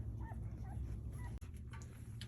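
Newborn golden retriever puppies in a litter at about three days old give faint, high whimpers and squeaks while nursing, quiet and close over a low steady background hum.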